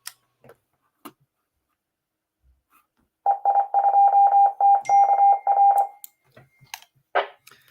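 A mobile phone notification chimes in a run of rapid repeated electronic beeps lasting a few seconds, loud and close, between scattered faint clicks, followed by a short burst of sound.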